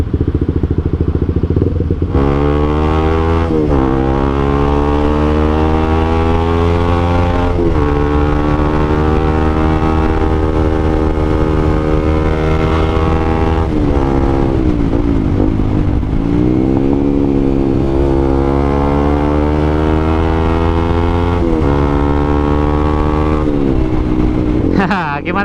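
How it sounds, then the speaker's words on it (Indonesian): Heavy traffic jam with motorcycles, several engines idling and revving close by, with a rising siren-like whine sweeping up and down above the drone of the stalled vehicles. "soalnya di sini macet banget."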